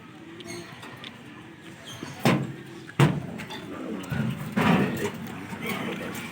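Pigeons coo in a racing-pigeon loft, soft low murmuring calls under someone talking nearby, with a few sharper thumps and wing or scuffling sounds.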